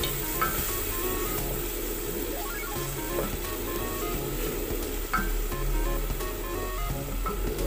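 Minced beef with vinegar sizzles in a pan while being stirred, a steady low frying hiss broken by soft scrapes and occasional clinks of the utensil against the pan.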